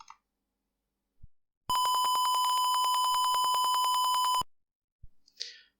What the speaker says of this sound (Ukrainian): Тобто це сплошний писк без зупину.